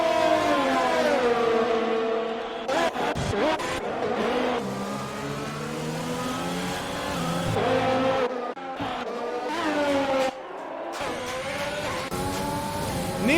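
F1 cars race through the final lap of the Hungarian Grand Prix in a racing game, with high engine whines rising and falling through gear changes and cars passing, heard under a commentator's voice.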